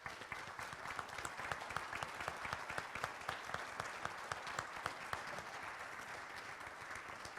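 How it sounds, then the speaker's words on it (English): Sustained applause from a theater audience at a city council candidate forum in Frankfort, steady crowded clapping heard faint and somewhat distant, holding even throughout. "Would you please join me in applauding them tonight?"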